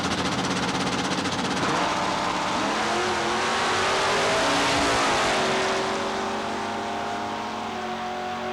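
Drag racing cars, a Chevrolet Camaro and a Chevrolet Vega, launch with a loud roaring engine blast that climbs in pitch as they accelerate down the strip, then fades.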